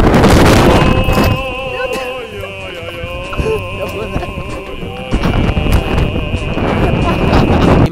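Strong wind blows through a town square in Tatuapé, buffeting the microphone in loud, rough gusts at the start and end, with steady tonal sounds in the calmer middle.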